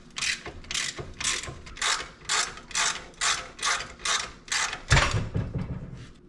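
Repeated ratcheting clicks from a wrench loosening a 15mm track bar bolt on a Jeep XJ, about ten steady bursts of pawl clatter, close and loud, with a heavier clunk near the end.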